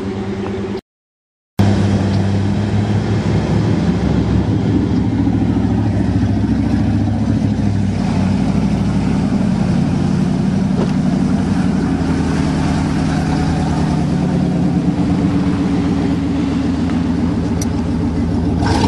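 A Dodge truck's engine drones loudly and steadily as it pulls a stuck 1988 Chevy truck out of a swamp, with a brief dropout near the start followed by continuous close rumbling.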